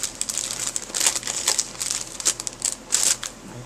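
Packaged trim from a Tim Holtz craft kit being opened, a quick run of crisp crinkling and rustling bursts close up.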